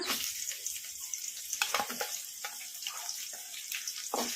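Onions for kaju masala rice fry in a pan over a medium flame, giving a steady close sizzle with soft crackles and occasional stirring scrapes, with no talk.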